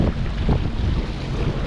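A SeaDoo personal watercraft running on open water while fishing for bull redfish, a steady close rumble of engine and water rush mixed with heavy wind buffeting the microphone.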